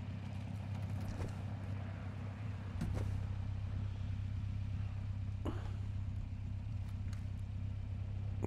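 A car drives along in the video game Call of Duty: Warzone 2.0, a steady low engine drone with a few brief clicks and knocks on top.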